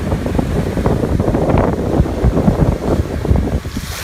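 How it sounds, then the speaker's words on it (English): A pontoon boat spins donuts and figure eights on open water, its hull chopping through churned waves in a loud, gusty wash of splashing and rushing water, heavy wind buffeting the microphone throughout with no voices. "Just do a couple of donuts and some figure eights and chop that water up"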